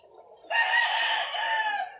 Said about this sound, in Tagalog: mga manok, mga pangsabong na manok dito